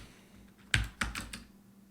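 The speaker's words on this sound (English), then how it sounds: "It's requires too much typing." Typing on a computer keyboard, a few close, crisp key clicks in a short irregular burst against a quiet background.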